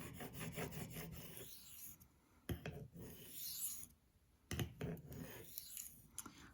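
A knife is sharpened on a Spyderco ultra fine ceramic benchstone, giving close, repeated rasping strokes in short bursts with brief pauses and an occasional tap, and no talking.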